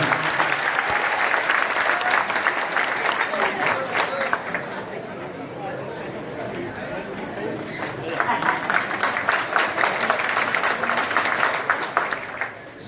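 A crowd claps steadily and loudly, the applause dipping briefly in the middle before swelling again, with murmuring voices underneath.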